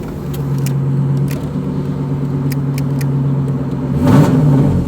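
A Volvo car engine revs from inside the cabin, a steady mid-range hum with a droning tone that swells in a sharper acceleration near the end.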